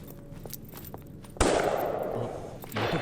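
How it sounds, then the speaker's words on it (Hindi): Gunshots in a movie scene, a single sharp loud crack followed by a lingering noisy decay, with faint shuffling and clanks before it. "ये तो गोली चलने की आवाज है।"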